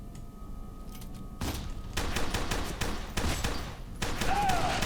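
Gunfire in the video game FEAR 2 Project Origin, a dense, loud run of rapid automatic shots and thuds that keeps going over a steady game background.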